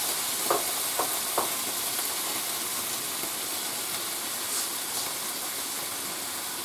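Pork chops sizzle loudly in a skillet with a constant close hiss of frying, while a few soft scraping knocks are heard as the meat is tossed around. Nobody speaks.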